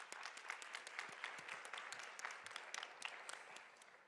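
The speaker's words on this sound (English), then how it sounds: "if we could just give a round of applause to the Executive Committee" An audience at a general session of an education conference on Detroit public schools applauds the executive committee, the steady patter of many hands heard faint and distant.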